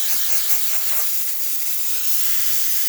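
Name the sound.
Lelit Bianca V3 espresso machine steam wand hissing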